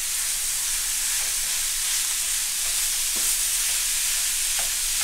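Ground chuck (80/20 ground beef) fries on a burner at medium heat with onions and garlic, making a continuous even hiss and sizzle that sounds close and steady, with only faint scattered pops.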